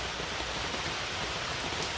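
Hard rain pours down in a heavy, steady downpour, a dense continuous hiss of drops drumming on surfaces close by, with no voices.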